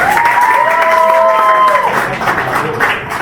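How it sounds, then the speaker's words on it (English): An audience applauds and cheers loudly and steadily at a magic show, with a whistle-like tone sustained through the first part before the clapping thins out. "Big round of applause. Give a big clap."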